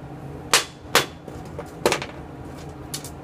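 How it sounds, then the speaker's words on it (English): A chunk of pure rust iron oxide is cracked apart by hand, giving several sharp, close snapping breaks spaced irregularly, with small crumbling ticks between them. "We're going to crack up some piece of this iron oxide."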